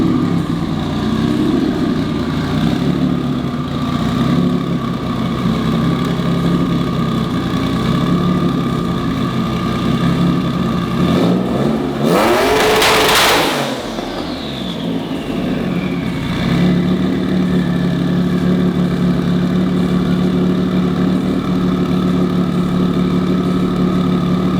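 A turbocharged H6 engine in a Subaru WRX STI idles steadily and close up, a constant droning hum with a brief whooshing, rising-and-falling swell partway through before the idle settles back.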